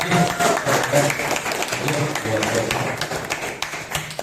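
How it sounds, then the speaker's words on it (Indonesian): Students in a school classroom clap together in a burst of applause, the sharp claps close and irregular while a voice talks over them. "tepuk tangan buat kalian"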